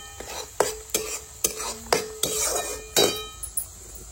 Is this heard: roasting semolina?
yes